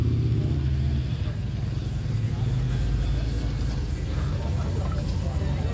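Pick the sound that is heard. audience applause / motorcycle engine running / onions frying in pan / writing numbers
motorcycle engine running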